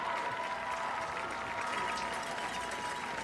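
Football crowd at a Virginia High vs Lebanon high school game applauding as an injured player gets up, steady broadband clapping and crowd noise throughout, fairly loud and continuous.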